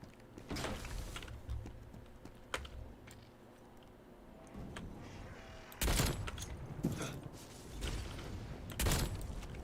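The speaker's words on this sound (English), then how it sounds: "I'm gonna go crazy with this sniper rifle." Sniper rifle fire in Black Ops Cold War: several sharp, widely spaced shots ring out over steady in-game ambience and mechanical rumble, each loud crack trailing into a brief echo.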